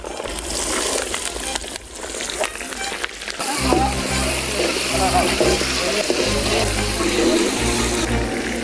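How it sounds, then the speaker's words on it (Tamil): Small shallots drop into hot oil already crackling with fenugreek, pepper and fennel for a large 10 kg sea fish curry, bursting into a loud, dense sizzle after quieter handling noises and a low hum. "இதில் சின்ன வெங்காயம் சேர்த்துக்கலாம்."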